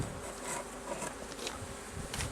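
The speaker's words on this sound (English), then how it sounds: "It doesn't look like a drone either. Just a large bee." A large bee buzzing near a beehive, a continuous close drone with slight swells in loudness as it moves about, steady and alone.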